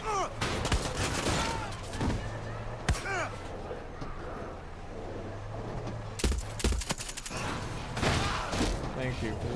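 Rapid bursts of gunfire in the Far Cry 6 video game, with sharp repeated shots and a loud volley near the end, heard under continuous excited talk from players.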